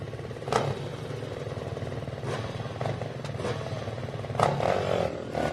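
A Honda LOP racing motorcycle at the Baja 1000 moto start runs steadily with a mid-pitched engine drone, swelling in a few revving bursts over a busy outdoor crowd background.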